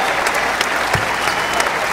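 A basketball arena crowd claps in dense, continuous applause during an Illinois Fighting Illini free throw, loud and close, with no talk over it.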